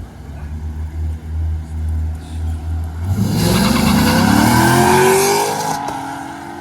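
A BMW at a car meet revs hard and launches, its engine note climbing through rising harmonics as loud tire squeal and skidding build over the second half, close and without talk.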